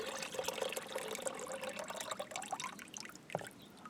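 Water pours and trickles into a pan while prospecting for gold, a light splashing dribble with small irregular bursts, heard close and quiet without speech.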